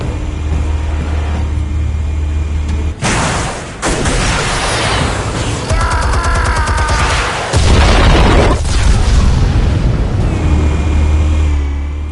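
Explosives detonating in a Batman video game, a series of loud close booms with rumbling debris and crackling bursts, separated by short lulls over a low engine-like drone.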